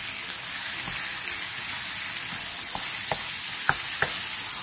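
Marinated meat and sweet potato stir-fry in oil over high heat: a constant close sizzle, with several sharp spatula scrapes and taps toward the end.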